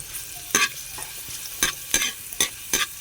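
Garlic and ground pork filling sautéing in a pan, a soft sizzle under repeated scraping strokes of a spatula, about six distinct close scrapes at an uneven rhythm.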